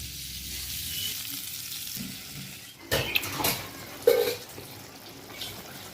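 Eggplant goes into a pan of hot oil, the soft frying hiss swelling into louder bursts of sizzle and clatter midway, with a few utensil knocks, then settling back to a low, even fry.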